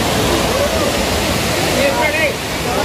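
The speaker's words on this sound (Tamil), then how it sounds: "அந்த அருவியோட சாரல் வந்து அப்படியே மலைத்துளி மாதிரி அப்படியே விழுந்துக்கிட்டு இருக்கு" Aagaya Gangai waterfall in the Kolli Hills, a steady broadband rush of falling water and spray that fills the whole clip at close range, with a faint voice briefly audible over it.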